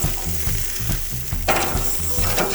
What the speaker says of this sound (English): The tomahawk ribeye has probably been searing for about a good 4 minutes.